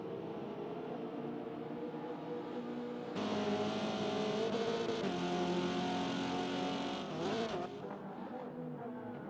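Race cars in the Forza game, a Subaru and a Huracan, pass with a steady engine drone that jumps into a loud, close, revving roar for about four seconds before easing back.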